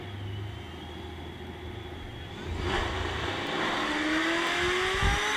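A gray Ford Mustang S550 and a stick shift car launch down a drag strip, a loud sustained engine roar building as they accelerate away, with no talk over it.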